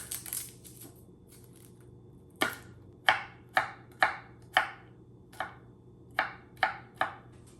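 Onion being chopped into large chunks with a knife on a cutting board, about a dozen crisp, evenly spaced knife strikes after a brief quieter start, close and clear.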